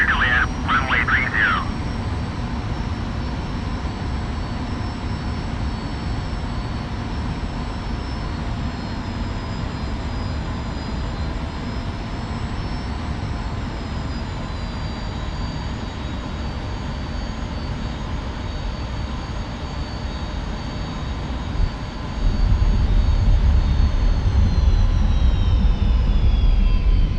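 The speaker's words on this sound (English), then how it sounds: "You have landed on Sakumi." F-86F jet landing on a runway in DCS World, a steady loud engine drone with a shifting whine throughout, rising to a heavier low rumble near the end as the aircraft touches down.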